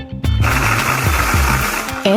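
A kitchen blender grinds green bird's eye chilies and turmeric with a loud, steady whirring drone and rhythmic chopping pulses, running close up for the whole stretch before a brief pitch change near the end.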